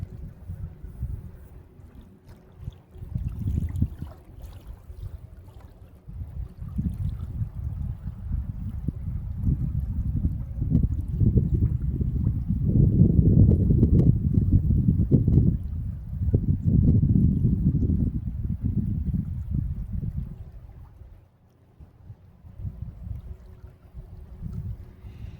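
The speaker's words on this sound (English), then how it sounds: "I hear a john boat or something coming up. Yep, little john boat coming up." A small aluminum john boat's outboard motor drones on open fishing water, a low rumble swelling louder as it draws near, peaking midway, then fading away, with no talking.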